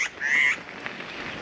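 A bird calls near a rail trail, a loud harsh cry with a honking, goose-like quality, one strong call then fainter repeats, heard up close outdoors.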